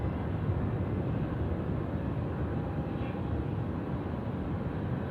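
A passenger airplane at Sydney Airport at night gives a steady, broad jet roar that holds level throughout, heard from the spotting area with no voices over it.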